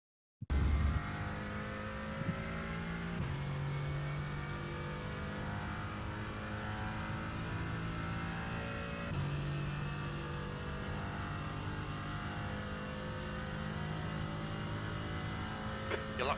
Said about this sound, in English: today we're gonna go with the Mercedes AMG GT4 around Fuji